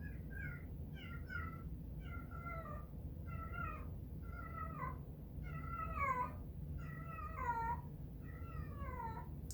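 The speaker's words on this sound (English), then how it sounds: "That's why there are feline yodels occurring in the background of this video" Repeated cat yowls, drawn-out and wavering, come in a steady series of cries at moderate distance over a low background hum.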